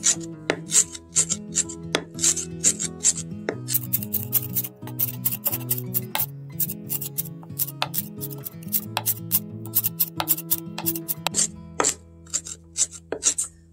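Fresh parsley chopped by hand with a knife on a cutting board, fast steady chopping taps in quick runs, close and crisp, with soft music playing underneath.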